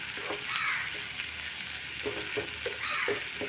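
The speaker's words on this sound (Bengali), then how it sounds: "আর একটু জল দিয়ে মশলাটা কষে নেব।" Spice paste of ground cumin and coriander with turmeric and chili powder frying in a pan with a little added water for a pointed gourd dish, a steady sizzle with soft stirring scrapes and small bubbling pops, with no voices.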